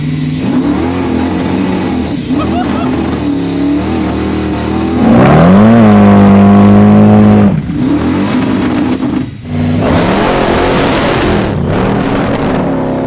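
Supercharged 1000 hp big block Chevy V8 in a one-off Chevrolet Fleetline Fastback drag car, idling loud and close with a burbling lope, then blipped into a sharp high rev that falls back before another rising rev.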